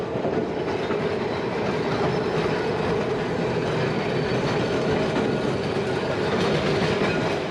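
An electric tram runs on rails in Milan, Italy, with a steady, loud, continuous rumble of wheels and motor and faint rhythmic clatter throughout, and no voices.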